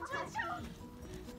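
Puppies whimper and yip in short, high, wavering cries up close, a few overlapping squeals with faint background voices murmuring underneath.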